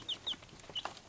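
Young chicks in a coop peep in short high chirps, three or four quick calls within a second over soft background rustle.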